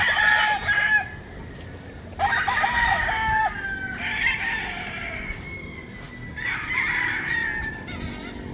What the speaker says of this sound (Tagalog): dito sa Manukan na nasa loob ng mansyon ni Sir Nene Abelio